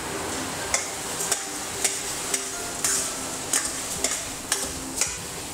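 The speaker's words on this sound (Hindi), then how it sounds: "अब इसमें हम चीनी डालेंगे।" A spoon stirs sugar into roasted milk mawa for gajar halwa in a pan, a soft continuous sizzle broken by regular, crisp taps and scrapes against the pan about once a second, close by, without speech.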